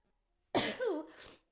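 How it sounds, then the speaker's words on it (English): A single close, sharp sneeze bursts out of silence, followed by a short breathy exhale. "I'm sorry. I had to sneeze."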